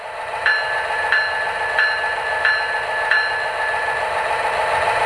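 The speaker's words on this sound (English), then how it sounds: "And here's the bell." An MTH O-scale 3GS21B Genset switcher model locomotive rings its bell in a steady repeating rhythm of about five clear dings, each roughly two-thirds of a second apart, heard close over a constant low electrical hum.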